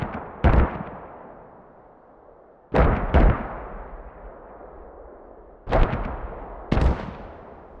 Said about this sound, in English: We hear mortars firing, so carefully.